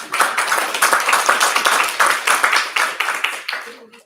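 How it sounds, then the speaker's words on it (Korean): An audience at a disability family survey report meeting in Jecheon claps warmly, a dense run of many hands that fades out near the end. "큰 박수를 부탁드리겠습니다"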